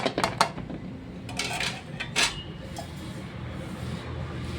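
Gram flour and sliced onions being mixed by hand in a bowl for methi pakora, with several scraping, clinking bursts against the bowl over a steady low background.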